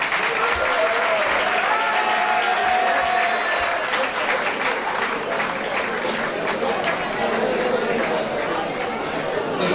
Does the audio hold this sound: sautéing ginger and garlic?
no